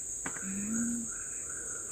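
A lemokan bird calls in a Sumatran forest: one low, slightly rising whistle, then fainter repeated higher notes, all set against a steady high insect drone.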